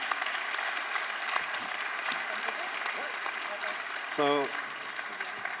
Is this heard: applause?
yes